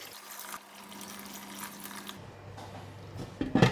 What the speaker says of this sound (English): Alright, I'm going to add in about 2 cups of water.